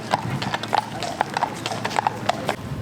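Horses clip-clopping along a street in Colonial Williamsburg, steady hoof strikes on hard pavement at a walking pace, fairly close, over outdoor background noise.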